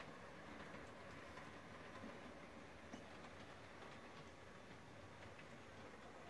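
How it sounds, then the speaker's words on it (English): A model train, the banana train, circles an indoor layout with a faint, steady rolling rumble and soft rhythmic clicking of wheels over track joints, continuous and unaccompanied by talk. "And now our banana train is coming around."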